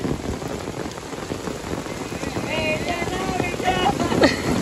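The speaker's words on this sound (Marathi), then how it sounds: "पाऊस बघा कसला तुफान आलाय, तुफान पाऊस एकदम" Heavy rain pours steadily through a forest during a stormy downpour, a dense continuous hiss of drops beating on leaves and surfaces, with wind buffeting the microphone and a faint voice briefly in the background.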